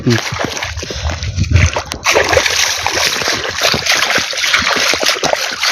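Feet sloshing through a water-flooded maize field, with steady splashing and wading close by while someone talks over it.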